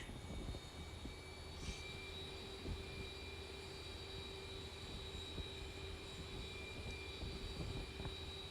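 Airliner jet engines spool up in a flight simulator game during pushback, a steady broadband roar with a faint high whine, continuous and even at moderate level.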